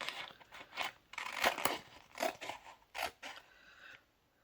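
Scissors cutting apart a Cricut vinyl craft piece for fall home décor, with several crisp snips and crinkling rustles in quick close bursts, then fading to quiet.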